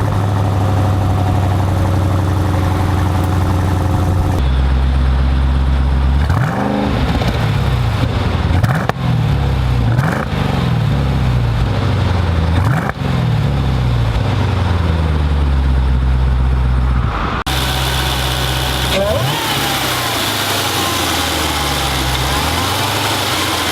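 A Jeep Trackhawk engine cranks and catches, then idles with a steady deep rumble, with several throttle blips that swell and fade before it settles back to idle, loud and close with no talking.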